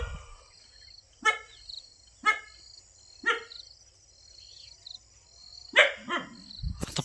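A dog barks in a series of single, fairly close barks spaced about a second apart, with a pause and then two quick final barks, over a steady chirring of insects in the background.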